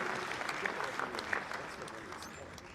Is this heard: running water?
no